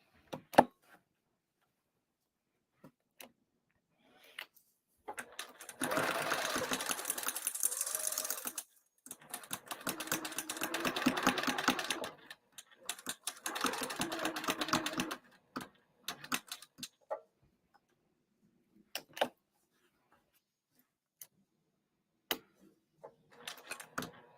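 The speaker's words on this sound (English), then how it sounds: "So now I'm going to sew along those short side." Sewing machine stitching along the short side of a bag lining for a Sikukuu pop-up cross body bag, running in several bursts of steady rapid clatter separated by pauses with scattered clicks and handling noises, no talk.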